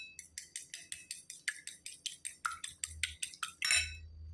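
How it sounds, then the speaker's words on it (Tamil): A fork beats a single egg with a little salt in a bowl for mutton cutlets, making a quick, even run of about seventeen close metallic clinks before a final louder scrape. "ஒரு பவுலில் ஒரு முட்டை உடைச்சி ஊற்றிருக்கேன். கொஞ்சமாக உப்பு சேர்த்து இதை பீட் பண்ணிக்கலாம்."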